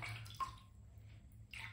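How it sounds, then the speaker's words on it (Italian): A little water added to a bar of shaving soap for a traditional wet shave, heard as soft, brief trickles at the start and end with quiet pauses between. "tanto metto un po' d'acqua"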